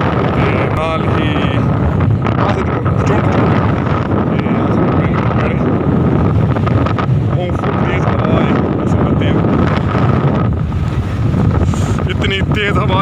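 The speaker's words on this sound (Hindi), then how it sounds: "इतनी तेज़ हवा है" Strong, steady wind at Namal Lake roars and buffets the microphone for the whole stretch, loud and close, with a voice speaking faintly beneath it.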